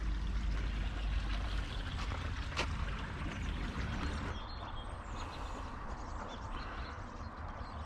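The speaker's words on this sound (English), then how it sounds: "There we have the young River Avon." The young River Avon flows steadily through a frosty Cotswolds valley, a continuous broadband wash of running water that stays near and even throughout, with faint outdoor ambience and no voices.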